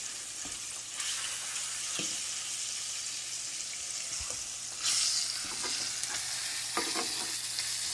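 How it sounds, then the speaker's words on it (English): Pork chops searing in a hot pan give a steady, fairly quiet sizzle throughout, with a few soft clicks and scrapes of handling and no voices. "We're just going to brown them and sear them a little bit for the seasoning"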